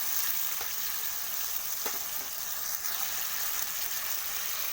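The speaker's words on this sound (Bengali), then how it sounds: "এবার নাড়িয়ে নেব।" Cumin paste and chopped tomato fry in a pan for mustard hilsa, giving a steady, close, bright sizzle with a few soft stirring scrapes.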